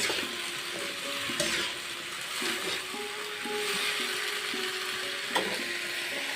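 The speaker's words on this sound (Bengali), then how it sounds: "কাঁচা লঙ্কা কাটাগুলো কয়েকটা দিয়ে দিচ্ছি।" Chopped green chillies go into a hot frying pan and are stirred, with a steady sizzle of oil and scraping and clinking of the spatula against the pan, loud and close, without speech.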